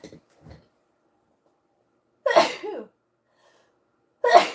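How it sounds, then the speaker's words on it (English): A single person sneezes sharply at close range, preceded by a couple of faint breaths or shuffles and followed by a second sneeze-like burst a moment later, with quiet pauses between. "Sneeze."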